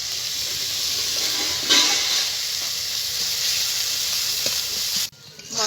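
Spice paste of turmeric, salt, ground cumin and dried red chilli sizzles steadily in hot oil in a pan for a kofta curry, a continuous close frying hiss with a brief stir burst, then a sudden drop near the end.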